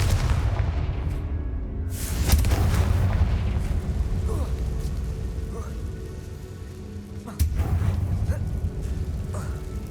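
A Confringo fire spell exploding in Hogwarts Legacy, a heavy boom followed by a long rumbling fire roar with scattered crackles, then a second sharp blast near the end.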